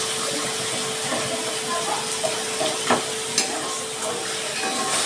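Masala of tomato paste with cumin, coriander and chilli powders and splashes of water cooking down in a pan for an egg curry, a steady broadband sizzle with faint scraping stirs, close and continuous.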